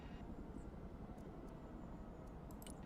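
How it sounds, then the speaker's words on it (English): A Chinook helicopter flies in the video game Broken Arrow, a steady low rumbling rotor and engine drone with a few faint high blips. "Chinook, reporting in. Going high."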